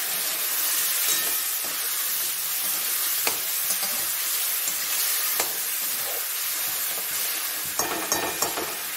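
A paste of ginger, tomato and green chili fries in a pan for a raw fig curry made without onion, giving a steady close sizzle and hiss, with a few sharp clinks from stirring.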